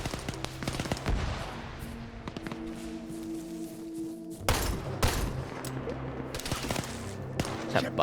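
Gunfire in a military video game, bursts of rapid automatic fire and scattered single shots, some close and sharp, others distant, over a steady background hum with a voice talking at times.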